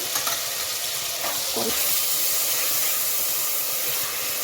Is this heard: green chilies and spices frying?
yes